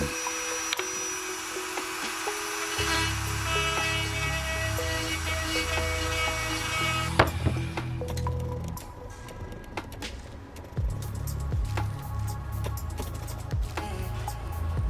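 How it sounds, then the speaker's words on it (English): A Dremel rotary tool grinds a small hole into a wooden crankbait lure body, a steady close whirring drone with shifting pitch as it cuts, pausing briefly and resuming, no talk. "Now I'm going to use the Dremel just to hollow out a little hole where the rattle is going to be."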